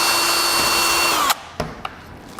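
A power drill whines steadily at high speed while fitting a Taco Garage DMM to a Toyota Tacoma TRD Pro, then cuts off abruptly, leaving a few faint clicks and taps nearby.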